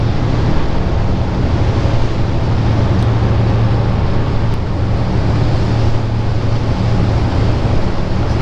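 Strong wind and churning sea rush over the back deck of a fast ferry running from Ho Chi Minh City to Vung Tau, a loud, steady broadband roar with a low hum underneath and no talk.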